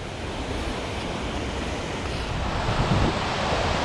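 A waterfall on the Kheerganga trek in Himachal roars as a steady, dense rush of falling water, loud and unbroken, with wind buffeting the microphone.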